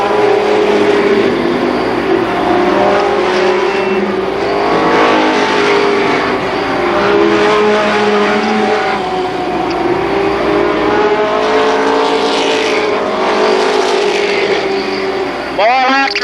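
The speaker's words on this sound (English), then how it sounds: "More lap traffic ahead for Donnie Gregory." Super late model race cars roar around a speedway oval in a continuous loud engine drone, with passing surges and revving rising and falling, under a commentator's steady play-by-play.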